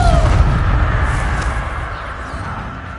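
Confringo spell blasts in Hogwarts Legacy make a loud, deep boom that rolls off into a fading rumble.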